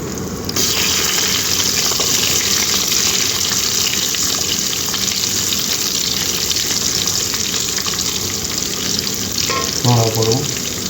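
Onions hit hot oil in a pan for snake gourd poriyal, producing a loud, constant frying hiss that runs without a break, with a brief clink of stirring near the end and no speech.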